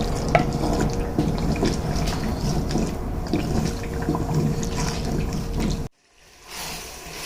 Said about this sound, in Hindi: अब इसके अंदर इसको मैं अच्छी तरह फ्राई कर लूँगा।